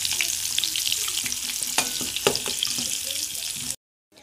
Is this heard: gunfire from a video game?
no